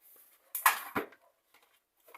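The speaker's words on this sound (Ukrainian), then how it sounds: "Ось я беру чисту баночку" A couple of quick glassy clinks and knocks as a clean glass jar for homemade apple vinegar is picked up and set down, close and fairly quiet, with near silence around them.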